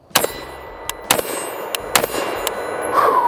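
Zastava ZPAP85 AK pistol fired in sharp single shots and short bursts, five or six loud cracks spaced irregularly with ringing tails, close and clear with no talking.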